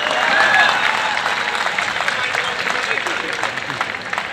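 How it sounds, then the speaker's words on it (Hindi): An audience claps steadily through a stage performance at a three-day youth festival, a dense, continuous wash of applause with no distinct voices on top. "तालियां बहुत कम बजती हैं।"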